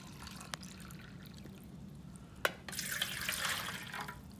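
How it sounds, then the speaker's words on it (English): Room-temperature tap water runs and pours into a container for homemade putty, a steady low splashing wash that swells louder in the last second or two, with a couple of faint clicks and no talk. "you're going to take 6 cups of water"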